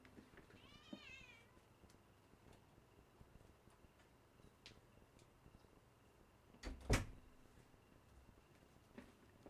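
A cat lets out one short wavering meow early on, followed by faint ticking, small knocks and a brief louder thud or door-like bump against a quiet room background.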